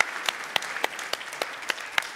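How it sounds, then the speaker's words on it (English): An audience at a leadership conference claps in applause, a moderately quiet, steady patter with a few sharper individual claps standing out. "can we give a round of applause for Ian for fasting this year?"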